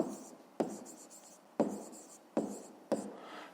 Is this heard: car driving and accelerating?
no